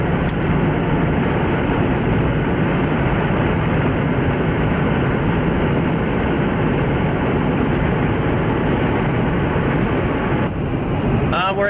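Strong wind buffets a vehicle driving north on Highway 283 in Oklahoma, a constant loud roaring rush of air and road noise from inside the cabin, steady throughout, with brief talk.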